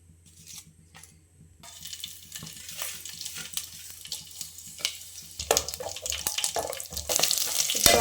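Whole spices (cinnamon, bay leaf, shahi jeera and cloves) sizzle steadily in hot oil, with stirring and scraping sounds, and the frying grows louder and brighter toward the end.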